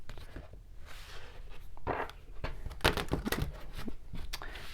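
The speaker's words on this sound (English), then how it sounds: "Let's do some shuffling." Oracle cards from the Green Witch Oracle deck being shuffled by hand, giving soft papery riffles and slaps in short bursts, close and fairly quiet, with no talking.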